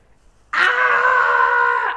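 A loud, sustained scream sound effect starts abruptly after a brief quiet moment and holds strongly for about one and a half seconds, played on its own as a one-word movie review.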